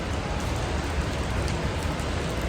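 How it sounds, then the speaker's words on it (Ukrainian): Steady rain falls outdoors, a dense, even hiss of drops that stays constant and fairly loud throughout with no other sounds. "На вулиці дощик"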